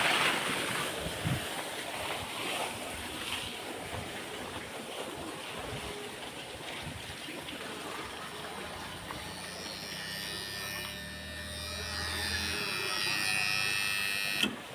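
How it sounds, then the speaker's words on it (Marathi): A well water pump motor running outdoors, a steady broadband whir with a wind-like wash and a faint hum underneath, while people talk over it. "विहिरीची मोटर चालू केलेली"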